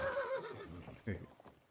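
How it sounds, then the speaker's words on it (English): A horse in a video game gives a loud, wavering whinny, followed by a shorter snort-like second call, with faint hoof clops under it. "There's an unhappy horse."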